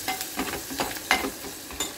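Curry leaves dropped into hot oil in a home kitchen give a soft, steady sizzle with light crackles and a few brief spatter bursts, close and alone.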